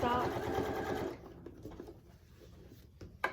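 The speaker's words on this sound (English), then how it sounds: "So now I'm going to sew it down just like I did the rest of this top piece." A sewing machine runs steadily as it stitches down a quilt-as-you-go Christmas stocking, a close, busy whir for about a second before stopping, followed by quiet handling of the fabric.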